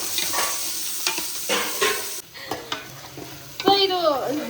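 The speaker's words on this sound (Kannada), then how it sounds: "ಈಗ ನೀಟಾಗಿ ಫ್ರೈ ಆಗಬೇಕು." Onions frying in ghee in a pan while being stirred, with scraping strokes of a spoon and a steady sizzle close by, no one talking.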